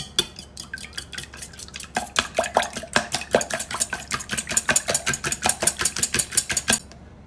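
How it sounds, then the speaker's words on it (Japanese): Eggs beaten in a bowl with a whisk for sponge cake batter, rapid rhythmic clicking strokes against the bowl, slow at first then speeding into a fast, even beat, close and clear. "卵を溶いていきます。"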